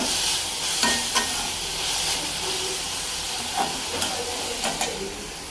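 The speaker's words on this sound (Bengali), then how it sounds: "এই যে মাছগুলো ভেজে নিলাম, এখন ভুনা করে ফেলবো" Fish frying in oil in a pan as it is stirred, with a steady sizzling hiss throughout and a few soft scrapes and knocks of the spatula standing out now and then.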